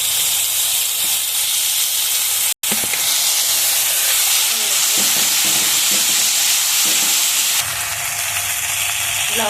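Onion, bay leaves, chilli and spices frying in fish oil for a pond-fish curry, a loud continuous sizzle and hiss with occasional stirring scrapes and one brief cut.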